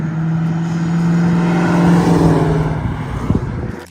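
A 1989 Ford Mustang LX with the 5.0 V8 running loud and close, a steady throaty drone that swells as it revs, then a few sharp pops as it fades, with no talking.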